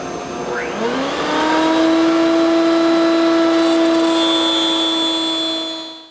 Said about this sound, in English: we're going to cut all those right here at the router table